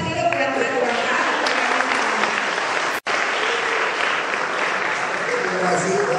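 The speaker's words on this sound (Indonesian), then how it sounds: "Baik, kita tepuk tangan dulu buat Najwa." A hall full of children and adults applauds Najwa at a meeting between Jakarta's deputy governor and young student doctors. The clapping is loud and dense and runs continuously, with one brief dropout near the middle.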